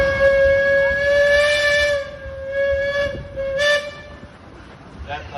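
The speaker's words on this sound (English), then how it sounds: "That last noise you heard, Wade, was the whistle." Whistle of a 1917 Minneapolis 28 horsepower steam engine: a loud, sustained, tonal blast that dips briefly and then resumes before fading, with outdoor background noise beneath it.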